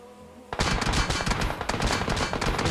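Sustained rapid gunfire in a PUBG battle royale match crackles from several directions at once, loud and dense, beginning abruptly after a brief quiet lead-in and continuing without pause.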